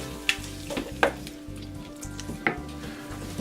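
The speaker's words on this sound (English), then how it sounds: "this has been sauteing for about 15 minutes" Sauce for Cajun spaghetti and meatballs sizzles as it sautés in a pan, a steady frying crackle broken by a few sharp clinks and scrapes of stirring, with no voices.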